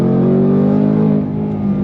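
A 2024 Ford Mustang Dark Horse engine revs hard and steadily under throttle, a loud continuous roar with rising harmonic tones, close and sustained throughout.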